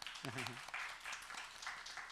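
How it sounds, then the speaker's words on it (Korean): Scattered applause from a small church congregation, soft and somewhat distant, with a voice speaking briefly near the start. "박수로 축복할까요?"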